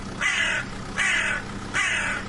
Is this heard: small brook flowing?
no